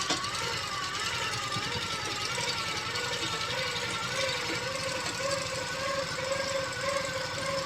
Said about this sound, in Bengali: তারপরে সেলাইটা এভাবে করতে আরম্ভ করবো।